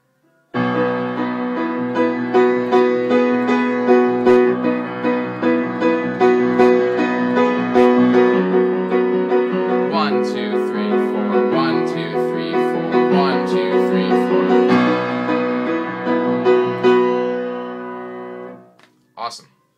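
A piano plays the verse of a song: sustained chords and melody notes flow evenly for about eighteen seconds at a fairly loud level, then fade out at the end, with no voice.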